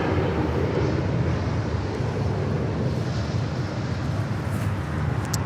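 A United Airlines Boeing 757-300 arriving at Los Angeles International Airport roars in a broad, steady engine rumble mixed with wind noise, sustained and fairly loud with no talk.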